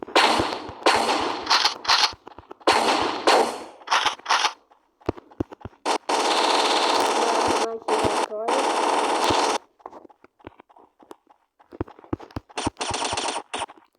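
Rapid automatic gunfire from the video game Chicken Gun in loud clustered bursts with short gaps, interspersed with single shots and clicks, alongside a voice talking.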